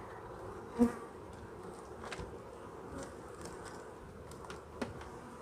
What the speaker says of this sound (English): seems to be a fair amount of bees in here